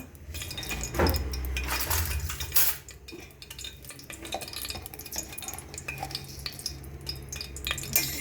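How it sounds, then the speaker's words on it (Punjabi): Cumin seeds drop into hot oil in a pan, bringing a burst of crackling and sizzling, then metal utensil clinks and scrapes over a continuing soft fry. "ਇਹਦੇ ਵਿੱਚ ਮੈਂ ਪਹਿਲਾਂ ਪਾਵਾਂਗੀ ਇਹ ਇੱਕ ਚਮਚ ਜੀਰਾ"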